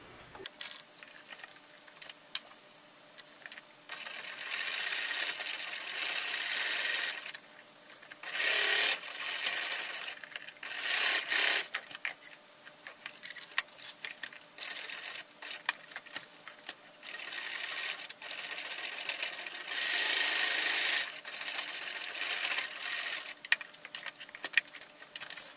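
A sewing machine top stitching the short and long ends of a fabric bag, a steady mechanical whir running in long continuous bursts with brief pauses between passes, close and fairly loud with no voices.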